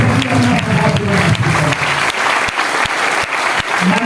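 Loud audience applause at a university event in tribute to Kargil war martyrs, with dense, vigorous clapping at first that thins into sharper, more separate claps near the end.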